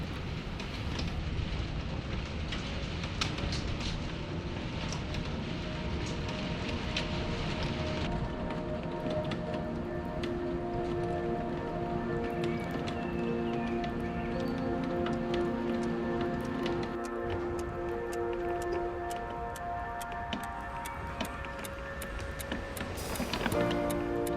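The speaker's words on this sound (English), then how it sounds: "it actually started to rain, which was really nice because I love the rain when you're inside, and it just has that lovely relaxing sound" Steady rain heard from indoors during a quiet study session, a continuous soft patter and hiss with occasional faint ticks, even and unbroken throughout, with no talking.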